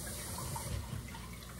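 Tap water runs steadily into a kitchen sink while ginger is rinsed under it, a soft continuous splashing wash at low level with no talk.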